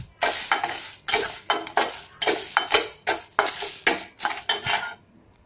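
Coriander seeds and black pepper dry roasting in a pan with no oil, a steady run of sharp scraping and rattling strokes as the spoon pushes them around the metal, loud and close, without any talk.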